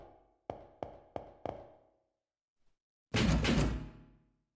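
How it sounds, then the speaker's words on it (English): Four sharp knocks on a door in the video game Fate Extra CCC, then a pause and a loud, rushing sliding-door opening sound that fades out. "I announce my entrance, then open the door."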